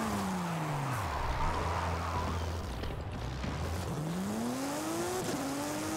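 A Porsche 911 GT3 RS roars through hard acceleration from 0 to 100, its engine note climbing steeply, dropping with a gear change, then rising again, loud and close with no talking.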